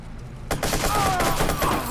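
Gunfire in the video game Watch Dogs, a sudden loud burst of rapid shots that keeps rattling on for over a second, with a short whistling tone mixed in.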